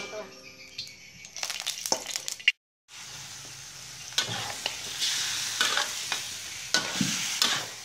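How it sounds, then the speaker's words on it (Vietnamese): Loud, steady sizzling of chicken pieces stir-frying in a hot pan until firm for a chicken stew, with scraping stirs and a brief pause in the sound partway through. "Mình xào gà cho nó săn lên nha các bạn"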